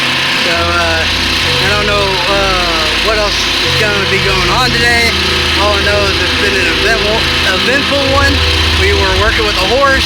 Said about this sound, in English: That noise is a generator.